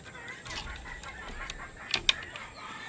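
Gamecock chickens cluck softly near a brooding hen on a fighting-cock farm, a few faint, scattered calls with two sharper clucks standing out over quiet background.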